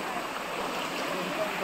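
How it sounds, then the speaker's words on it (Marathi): A Konkan village stream, running low after light rain, flows with a steady broadband rush in the background throughout. "वाळाला पाणी बघू शकता, इकडे थोडं कमी आहे. पाऊस आता कमी आलाय तर पाणी कमी आहे"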